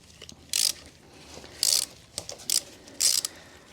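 A 6mm Allen key loosens the metric front fork pinch bolt on a 2024 Harley-Davidson CVO Road Glide with Showa forks. Four short, close metallic clicking bursts are separated by quiet pauses.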